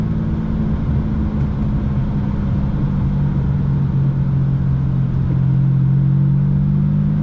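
A Ferrari 456 GT engine pulls under acceleration while driving, a steady low droning rumble heard from inside the car that holds firm and swells slightly toward the end, with no talk over it.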